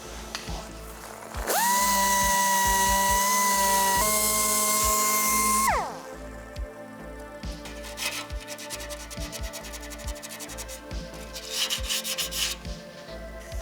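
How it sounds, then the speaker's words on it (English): Steady, loud whine of a power sander grinding a BMW E30 car body for a few seconds, then stopping, followed by scraping and rubbing sounds on a hard surface. "Now it is time to sand everything down."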